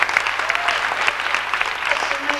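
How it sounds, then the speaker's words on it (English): An audience at a live stage show claps steadily for a couple of seconds, dense and fairly close, with a faint voice murmuring under the applause. "Please applaud, because I can't see you with the lights in my eyes."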